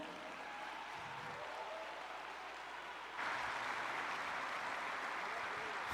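A church congregation at a state religious congress applauds with continuous, faint, distant clapping that swells louder halfway through.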